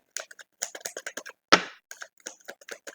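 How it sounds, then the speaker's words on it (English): A quick run of light papery clicks and flutters as tarot cards are riffled and shuffled close by, with one sharper slap partway through. "Just want to make sure I thoroughly shuffle them"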